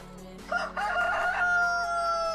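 A rooster crows loudly among chickens on a farm in the video game Farming Simulator 19, one long close cock-a-doodle-doo with faint clucking around it.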